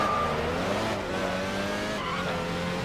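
Car in the Midnight Club 3: DUB Edition Remix racing game downshifting and skidding, a steady loud engine drone with harmonic whine and a faint tire squeal running continuously, with no talk.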